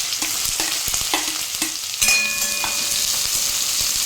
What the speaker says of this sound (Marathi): कांदे 2 ते 3 मिनिट परतून घेऊ।